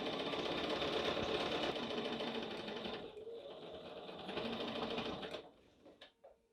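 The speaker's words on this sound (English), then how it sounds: "Now go back to your sewing machine, and we're going to start at the top of this edge" Home sewing machine stitching along the edge of a fabric coaster, a steady fast mechanical whir that runs continuously, then slows and stops in a few last stuttering stitches near the end.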